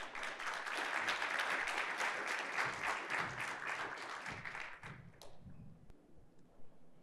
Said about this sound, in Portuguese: Por favor, gente, batam palmas para ele.